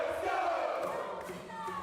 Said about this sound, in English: A pep rally right off the beach got the crowd fired up.